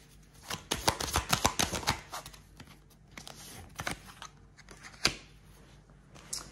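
Tarot cards are shuffled in quick bursts of crisp riffling and flapping, then come sparser single slaps and snaps with short pauses between. They are close and fairly quiet, with no talking.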